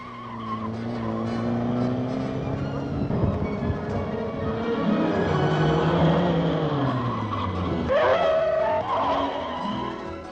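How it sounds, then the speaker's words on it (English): Police car skidding and sliding across an oil-and-water-soaked skid pad during 1959 driver training, a continuous loud engine roar with squealing tyres rising and falling throughout, with no talk over it. "This skid pad with oil and water to make it really tricky gives them plenty of practice."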